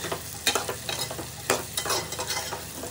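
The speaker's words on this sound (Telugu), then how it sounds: "సొరకాయ వేసుకొని మంచిగా కలిదిప్పుకోవాలి" Bottle gourd pieces are stirred into a dry fish tempering in a hot pan, giving repeated scraping strokes over a soft sizzle, close up with no voices.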